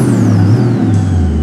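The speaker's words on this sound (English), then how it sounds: "Bugatti Chiron." Bugatti Chiron in the BeamNG.drive game, a loud steady engine drone with a deep rumble and a faint falling whine, heard alone for a brief moment.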